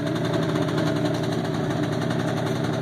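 Scoot Coupe 50cc custom reverse trike idles close by, a steady, buzzy small-engine putter with a faint knock, heard alone.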